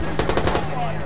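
Rapid burst of about five close gunshots in the Watch Dogs video game, loud, evenly spaced cracks fired over roughly half a second above a steady low hum.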